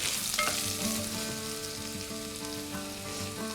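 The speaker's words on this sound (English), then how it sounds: "Once they start sputtering, we are going to add these chopped onions" Two to three chopped onions sauté in sputtering oil for chicken pulao, a continuous close sizzle with a brief surge near the start and a faint steady tonal hum beneath, no voices.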